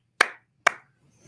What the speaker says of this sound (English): So you can make a recognizer that recognizes something short, like clapping